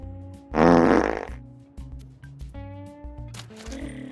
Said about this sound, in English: Ew, yucky fart.